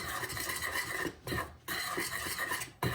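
Salt stirred into brownie batter in a bowl makes a quiet, rhythmic scraping and rubbing, with brief pauses between the strokes.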